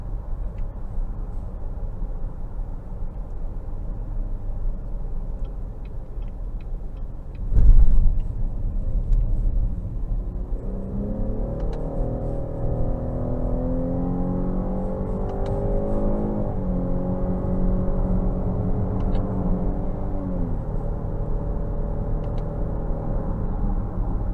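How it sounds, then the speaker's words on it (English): Cadillac XT6 in Sport mode pulling hard under acceleration, a steady engine drone rising in pitch through several paddle-shifted gears with brief drops at each change, plus one short thump early on. "We're going to put it into Sport mode now, and I'm going to put the paddle shifters on"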